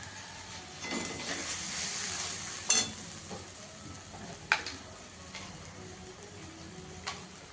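Ginger and green chili paste fries in a pan with a soft continuous sizzle, broken by a few sharp clicks and scrapes of stirring, close and fairly quiet without speech.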